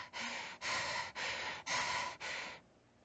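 A video game character breathes heavily, five loud, evenly spaced breaths in a steady rhythm, close to the listener with nothing else heard.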